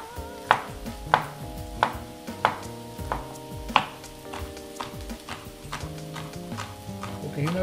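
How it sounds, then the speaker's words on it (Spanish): A knife chops vegetables into small cubes on a cutting board for a Mediterranean pasta ragù, giving a steady series of sharp, close, moderately loud knocks at roughly even intervals with faint kitchen background. "Los volteamos y ahora hacemos también los cubitos acá."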